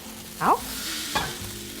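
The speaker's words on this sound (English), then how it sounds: "Quickly tossing this through, I'm spreading all the tomato paste, making sure it's nicely evenly coated." Pasta being stir-fried with tomato paste in a smoking hot wok, a continuous close hiss of sizzling with a couple of short scraping tosses of the noodles against the pan.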